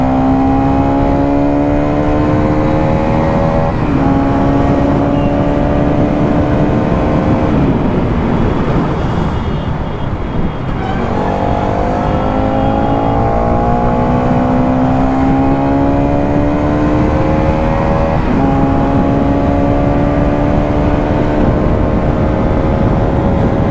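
A Bajaj Pulsar NS200 motorcycle on Apollo Alpha S1 tyres runs at speed on a highway with a loud, close engine drone that rises in pitch through each gear, dips briefly at shifts, and carries under steady wind rush.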